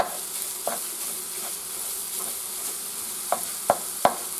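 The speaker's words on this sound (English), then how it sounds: "I'm just making a little sausage patty on the side" A sausage patty browns in a pan with a steady, soft sizzle throughout, broken by a few sharp clicks and pops of fat near the end; no one speaks.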